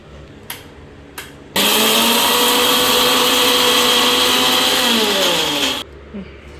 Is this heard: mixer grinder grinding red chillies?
yes